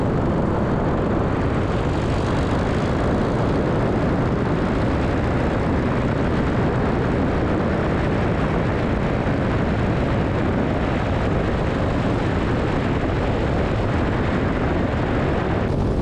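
Tiger Moth biplane engine droning as the aircraft comes in to land at a farm strip, a loud, continuous propeller and engine roar mixed with wind rush, steady throughout with no talk.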